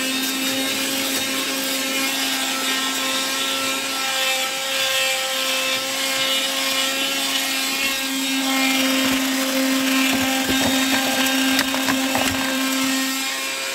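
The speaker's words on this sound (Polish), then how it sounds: "Włączam na razie sam odkurzacz." A 1968 Kembric car vacuum cleaner from the USA runs steadily on its own with a continuous motor whine and airy rushing noise, fairly loud and close, with no talking.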